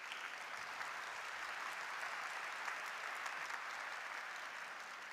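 Sustained crowd applause fills an arena during a professional table tennis match in Austria, a steady, dense wash of clapping that holds at an even level throughout with no talking.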